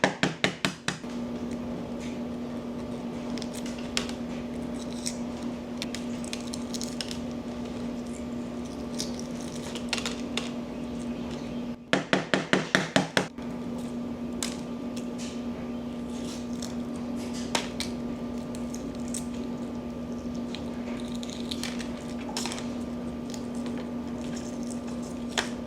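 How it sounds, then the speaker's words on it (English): Hard-boiled eggs are peeled by hand, with soft crackling, squishing and tapping of shell over a steady low hum, and a brief cluster of louder knocks midway through. "Peeling eggs."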